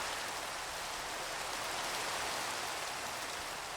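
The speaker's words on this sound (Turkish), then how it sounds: "Yağmur ya." Steady rain falls continuously in a video game, a dense even hiss with no pauses and no voices, heard at a low level throughout.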